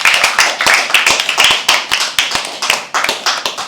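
A small audience at a live poetry open mic claps after a poem, loud, close, uneven individual claps in a fast, irregular patter with no voices.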